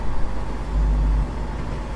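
Greater Anglia Class 170 diesel unit running in the Train Simulator 2020 game on the Lowestoft to Norwich line. It gives a steady, loud, low engine rumble with a heavier swell partway through, and no voices.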